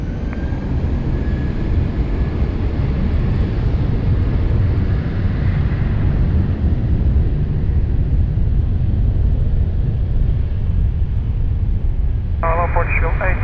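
A fixed-wing airliner on runway 20 at Lisbon Airport, its engines a steady, loud broadband roar held throughout; a short burst of radio chatter breaks in near the end.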